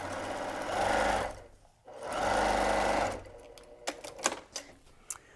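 A sewing machine quilts through insulated fleece layers for a lunch sack in two steady motor bursts separated by a short pause, followed by scattered light clicks and taps as the fabric is shifted.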